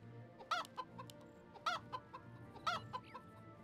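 A chicken unit in Warcraft III, the real-time strategy game, clucks in three evenly spaced bursts with softer clucks between them, set over a low hum of game sound.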